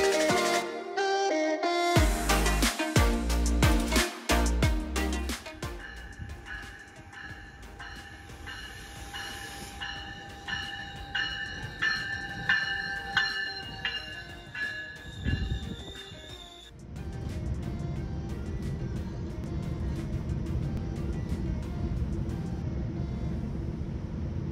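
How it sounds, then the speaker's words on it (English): A GO commuter train rolls toward downtown Toronto, with loud, steady rumble and rattling, squealing wheels on the rails heard from inside the car, rising in bursts and settling into a continuous low roar. "So today we're going to take the GO train again and go to downtown."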